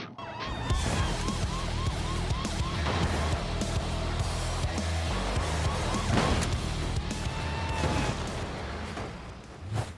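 In the BeamNG driving game, a swarm of police cars chasing a heavy truck wails with wavering sirens buried under loud rumbling engine and collision noise, continuous throughout.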